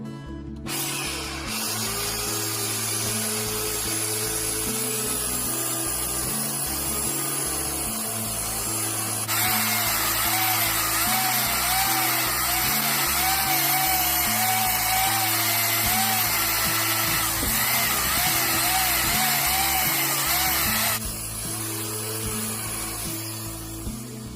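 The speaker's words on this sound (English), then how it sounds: "then we'll take a sander and we'll remove this area" A power sander grinds steadily against a horse's hoof being trimmed to remove white line disease, a continuous loud whine with a harsher buzzing stretch in the middle, and no voices.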